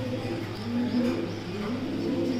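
Racing pigeons of the Lidman and National First lines cooing softly and continuously nearby, a low rolling coo with no other sounds over it.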